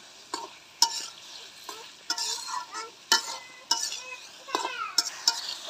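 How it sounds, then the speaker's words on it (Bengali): A spatula scrapes and stirs black taro stem curry in a sizzling pan, with frequent clanks and rasping strokes in an uneven rhythm, close and fairly loud. "আমি এখনই কষিয়ে নেব, পরে আর কষাবো না।"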